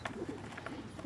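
Tippler pigeons cooing in a loft, a soft continuous burble of low coos with a few brighter wing or call accents, close by and steady throughout, no talking.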